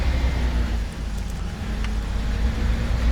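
A Fendt 700 Vario tractor engine from a farming game mod runs at a steady low drone, close and continuous with no speech.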